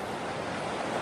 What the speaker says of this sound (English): So these are the rapids.